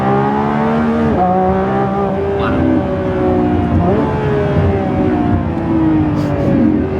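A Lamborghini Revuelto V12 accelerating hard in Performance mode, its loud engine note climbing through repeated rising sweeps with brief drops at each gear change, heard from inside the car.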